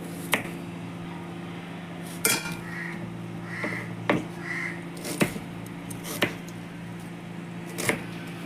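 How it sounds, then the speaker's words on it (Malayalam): Onions are chopped small for samosa filling, heard as a handful of sharp, separate knife strikes against a board spaced a second or more apart, with faint scraping in between and no talk. "നമ്മൾ സമോസ ഉണ്ടാക്കാനുള്ളത് ആ ഉള്ളി ചെറുതാക്കി"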